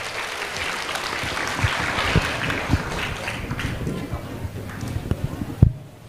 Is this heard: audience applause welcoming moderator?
yes